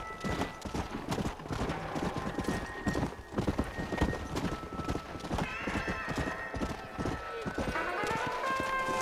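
Horse hooves clip-clopping in a steady rhythm with a whinny, from the Red Dead Redemption: Undead Nightmare video game, with people talking over the game audio throughout.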